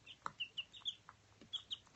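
Baby chicks peep and cheep back and forth in quick, high, short calls spaced irregularly, fairly close and soft, with a few lower clucky notes mixed in and no talk.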